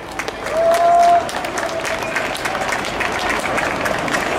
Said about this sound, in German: Deswegen bitte ich euch um einen Applaus für euch alle,